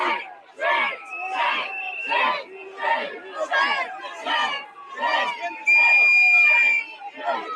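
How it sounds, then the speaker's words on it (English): Protest crowd outside a federal building chanting in loud rhythmic bursts, many voices shouting together in repeated calls, close and dense with a whistle-like tone near the end. "you can hear the crowd here chant, "Shade, shade.""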